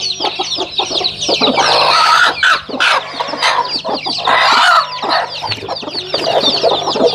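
A native country hen with her newly hatched chicks clucks loudly and close up, a dense run of repeated clucks and short squawks coming in quick bursts with brief pauses.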